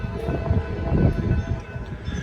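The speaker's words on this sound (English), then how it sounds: "Oh, we got a train coming over here." A long freight train hauled by several locomotives, including distributed power units, rumbling past outdoors, a low continuous rolling roar with clattering and swelling at close to moderate range.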